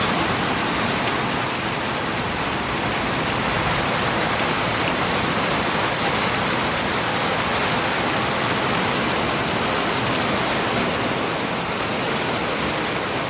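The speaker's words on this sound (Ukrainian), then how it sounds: "І тут дощ такий, не мілкий, а дощ, краплі дуже великі і густі." Heavy rain with large, dense drops during a strong thunderstorm in Rivne: a constant loud, close wash of pouring rain hissing on surfaces without pause, with no voices over it.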